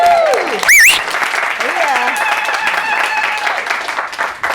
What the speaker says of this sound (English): a big cheer for the DJ here